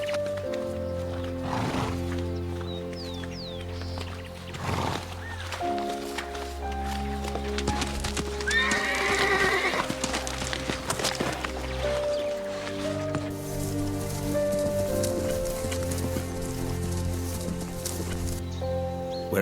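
Feral horses running wild in Western Australia, with neighs and whinnies over soft hoof clatter and snorting, fairly close and sustained against a continuous background score.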